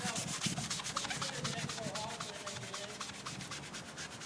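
Old coating is sanded off a car headlight lens, a continuous loud, close rasping rub with a steady back-and-forth texture throughout and no talk.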